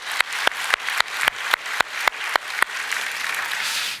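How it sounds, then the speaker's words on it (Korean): Church congregation clapping in unison, about ten sharp, evenly spaced claps in a steady rhythm that then blur into looser scattered applause, close and moderately loud. "하나님 앞에 감사 박수 한번 올려드리겠습니다"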